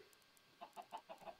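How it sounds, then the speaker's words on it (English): Minecraft chickens in a video game give a run of about five short, soft clucking calls in the second half, evenly spaced and faint, following a quiet start. "those chickens are making so many clicking noises"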